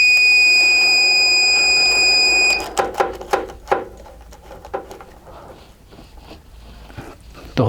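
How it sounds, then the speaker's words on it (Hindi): Vguard hybrid solar inverter beeping as its battery is connected: a steady high electronic tone holds for about two and a half seconds, then stops, followed by a few sharp clicks and handling knocks. "एक बार बीप की साउंड आएगी मे बी"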